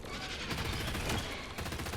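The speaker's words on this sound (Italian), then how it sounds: "se vedo un alieno gli sparo" Rapid automatic gunfire blasts at aliens in the isometric space-marine shooter game Darkswarm, a dense, loud, continuous fusillade of close shots.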